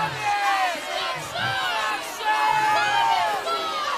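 An agitated crowd shouts and jeers in a staged outdoor Passion play, Ostrowskie Misterium 2018, with many overlapping voices rising and falling in loud waves over four seconds.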